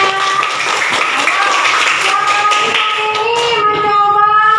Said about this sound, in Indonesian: Tepuk tangan untuk Asifah.